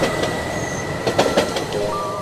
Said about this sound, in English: the occasional train rumbling past the elevated tracks